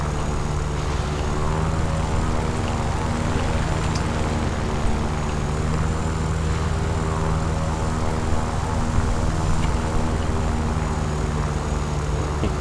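A LaGG-3 propeller fighter engine in the combat flight game War Thunder drones steadily and loudly throughout, a constant harmonic engine roar with no breaks.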